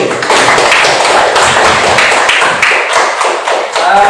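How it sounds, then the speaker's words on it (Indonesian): Classroom applause for a student group, a dense, steady clatter of many hands clapping close by for about four seconds without talk. "sekarang kita kasih aplaus untuk kelompok 1"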